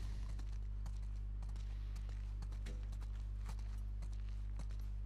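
Horse hooves walking in the video game The Last of Us Part 2, a faint, steady clip-clop of hoofbeats over a constant low hum.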